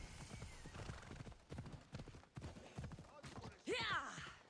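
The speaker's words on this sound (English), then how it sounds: "I'm not going to ask where the horse came from." Horse hooves clip-clop in Assassin's Creed Odyssey, a steady rhythmic trot near and fairly loud, ending in a sharp whinny.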